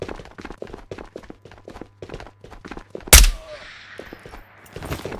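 A single loud, sharp gunshot cracks out near the middle of a Ghosts of Tabor VR shooter session, ringing briefly, amid steady in-game footsteps and movement sounds.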